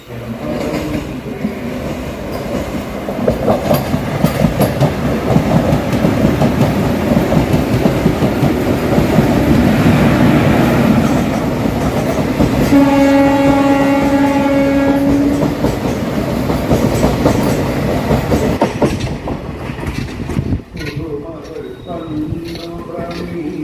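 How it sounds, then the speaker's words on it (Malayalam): An ALCO diesel-hauled train rolls into Kollam Junction with loud, steady wheel and engine rumble, clattering rail joints, and a sustained horn blast midway, heard from on board. "കൊല്ലം ജംഗ്ഷൻ റെയിൽവേ സ്റ്റേഷനിലേക്ക് ട്രെയിൻ എത്തിക്കൊണ്ടിരിക്കുകയാണ്."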